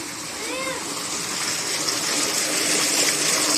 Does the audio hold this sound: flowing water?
yes